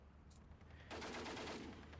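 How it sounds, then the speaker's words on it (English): A Bren light machine gun fires a rapid continuous burst in the World War II strategy game Steel Division 2, the rattle starting abruptly and staying dense and fairly distant, with no talk. "He's only firing its junky Bren gun, so it's doing essentially nothing"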